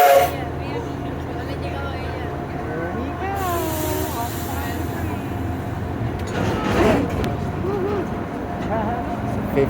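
A Superstition Scenic Railroad tourist train getting underway, with a low rumble and squealing metallic tones under people talking nearby, and a brief louder swell midway.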